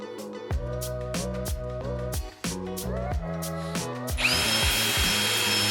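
A benchtop drill press bores into wood while building a jig for a lumber storage rack. A loud, steady motor whine rises and falls in pitch through repeated cuts, turning harsher and hissier near the end.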